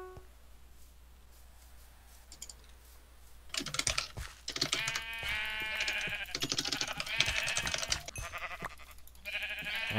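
Sheep bleat repeatedly in a video game, the calls fairly close and clustered over a faint background hum, with a quiet stretch before they begin.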